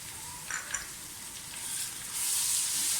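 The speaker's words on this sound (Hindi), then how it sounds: "प्याज के साथ इसको भी फ्राई कर लें अच्छी तरह से।" Garlic ginger paste fries with onions in a pan for a kachnar gosht curry, giving a steady close sizzle with a couple of brief stirring scrapes, and the hiss swells louder toward the end.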